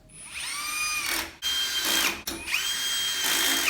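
Power drill or impact driver fastening bolts with lock and flat washers to attach the top shelf of a Harbor Freight Vulcan welding cart; two close, sustained whirring bursts with a brief stop between them.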